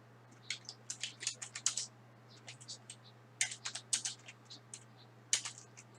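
Fingers type on a computer keyboard in quick, irregular bursts of light clicks with short pauses between, close and clear over a low steady hum.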